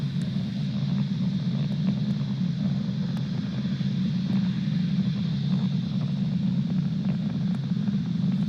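A SpaceX Falcon 9 with nine Merlin 1D engines climbs during a Starlink launch from Cape Canaveral, giving a constant, deep rumbling roar that stays even and unbroken, heard at a distance without talk.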